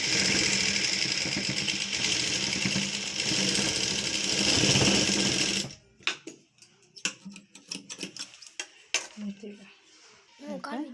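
A sewing machine runs continuously while stitching lining cloth onto a sleeve, a steady close whir for about six seconds, then stops, leaving scattered clicks and handling knocks.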